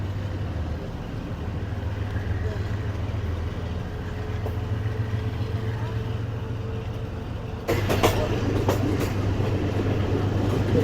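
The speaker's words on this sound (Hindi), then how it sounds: "फाइनली तकरीबन 35 मिनट रुकने के बाद ट्रेन निकल रही है हमारी मुरीद के से" A Subak Raftar railcar train pulls out of Muridke station after a long stop, its steady low engine drone and rumble filling the cabin, growing louder and rougher near the end as the wheels pick up speed; no talk.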